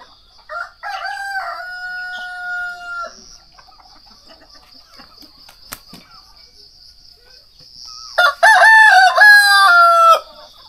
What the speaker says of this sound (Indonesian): dengan pagi yang ditemanin ayam berkokok